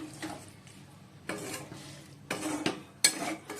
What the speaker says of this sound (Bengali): তো এই বন্ধুরা, মাংসটা কষাচ্ছি